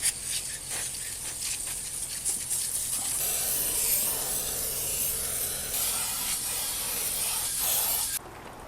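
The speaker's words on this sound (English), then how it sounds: "so we've sprayed it all on the inside. I had a little bit left in the can" An aerosol can of cleaner spraying onto an air-conditioner condenser, a close continuous hiss that starts in short bursts, then becomes one long steady spray before cutting off.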